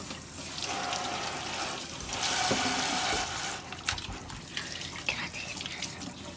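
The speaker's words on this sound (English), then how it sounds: "And I'm gonna wash my hands again." Hands washed under a running kitchen tap while cooking stuffed chicken, steady splashing water close by with brief rubbing and clinks, and a person speaking briefly.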